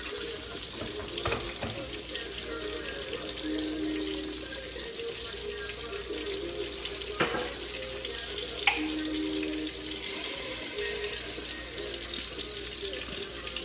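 Water runs steadily from a tap into a sink for a long stretch, with occasional clinks and knocks of dishes nearby.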